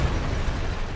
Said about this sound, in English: That means I'm too close to the surface. And I exploded.